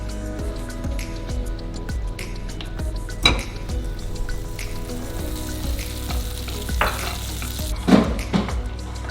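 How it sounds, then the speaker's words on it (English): Butter melts in a pot over low heat for pastitsio, giving a soft continuous sizzle with occasional clinks and scrapes of a utensil against the metal. "First, you want to put the butter into melt on a very low temperature."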